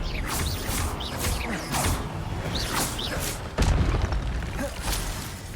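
Expelliarmus spell combo cast in the Hogwarts Legacy game: a series of whooshing, zipping magical bursts with creaking mechanical swells and soft thuds, followed by a sharp heavy impact partway through.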